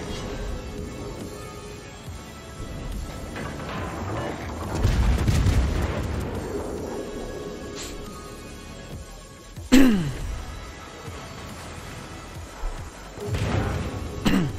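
Deep booming salvos of naval gunfire from the warship Cheshire in World of Warships, with heavy rolling blasts followed by sharp loud reports and lingering rumble, spaced unevenly over a low ambient drone of the naval battle.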